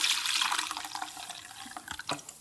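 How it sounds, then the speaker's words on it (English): Water runs from a tap into a bowl of oats, a close, steady splashing pour that tapers off into a few drips. "50 grams of oats with water"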